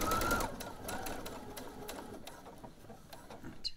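A sewing machine stitches elastic onto knickers in a short, close burst of rapid needle clatter that gradually eases off.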